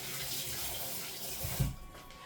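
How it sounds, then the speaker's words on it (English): Hands being washed under a running kitchen tap, a steady close hiss of water that cuts off near the end, with faint splashing and a soft thump. "I'm gonna wash my hands real quick."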